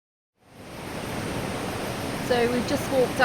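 A jungle waterfall near Luang Prabang pours as a steady, broadband rushing roar that fades in from silence and then holds constant, with brief faint sounds near the end.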